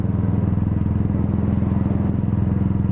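A Royal Enfield Himalayan BS4 motorcycle, a 2018 model, runs steadily throughout with a low, even engine thump and continuous rumble, close and fairly loud, with no talk over it.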